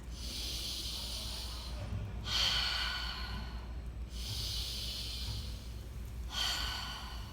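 Slow, deep breaths during a breathing exercise, with two long airy exhales, each followed by a pause, close and clear over faint background hum.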